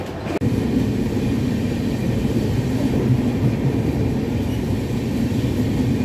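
A train in Varanasi rumbles along the rails with a loud, steady roar and a sharp clank near the start.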